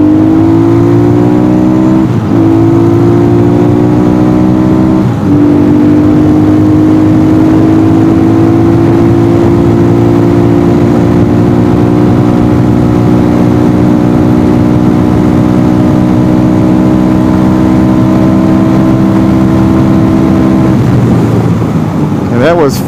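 A Templar M mini bike with 13/44 gearing screams through rising gear pulls on a top speed run into a strong headwind, engine loud and close, with a steady whine shifting up in steps before easing off.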